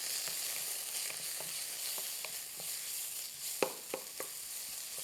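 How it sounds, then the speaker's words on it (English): Steak frying in a hot pan, a steady bright sizzle with occasional sharper crackles and pops toward the end, close and continuous with no talk. "So I'm just going to cook this steak off."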